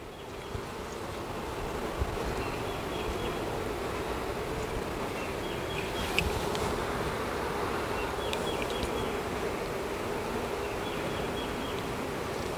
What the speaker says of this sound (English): A lot of bees, people.